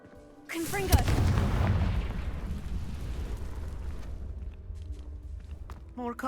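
A Confringo fire spell cast in Hogwarts Legacy, a sudden booming blast that settles into a long rumbling roar fading over several seconds, with a voice calling out over it.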